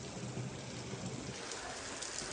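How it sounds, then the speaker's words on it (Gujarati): Steady rain falls outdoors, a soft, even hiss of drops heard from a distance with no other sounds. "બહાર વરસાદ આવે છે"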